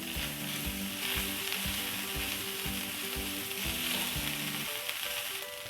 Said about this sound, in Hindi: तो इसको 2 मिनट हम लगातार भूनेंगे।